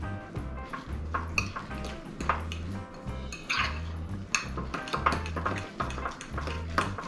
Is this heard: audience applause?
no